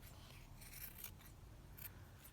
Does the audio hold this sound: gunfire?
no